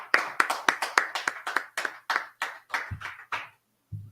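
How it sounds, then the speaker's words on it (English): A group clapping in unison at a brotherhood class, about a dozen sharp, evenly spaced claps that gradually slow and then stop, close and fairly loud. "go ahead and clap it up."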